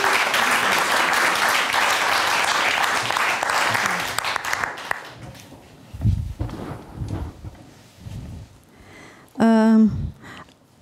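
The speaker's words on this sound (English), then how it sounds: "ask you for a warm round of applause" Audience applause after a literature talk: a dense, loud burst of clapping that fades after a few seconds, followed by scattered thumps, a speaking voice and a brief tonal sound near the end.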